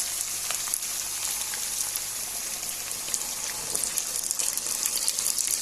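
Water hits beef frying in a pot and sets off a dense, steady hiss with scattered crackles and spits, close and fairly loud throughout, with nobody speaking.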